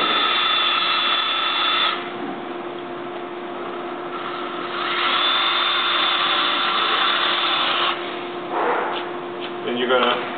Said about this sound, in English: You're going to drill 2 holes.